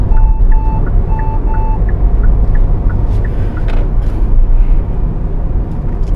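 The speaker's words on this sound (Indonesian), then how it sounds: "Oh, ada mobil yang mundur," A car reversing in traffic sends out a steady run of evenly spaced reversing beeps, clear over continuous road rumble and engine noise.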